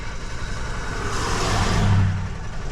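A GM vehicle's engine cranks steadily without catching, a continuous low starter-driven churning that holds close and fairly loud for the whole stretch, swelling slightly near the end.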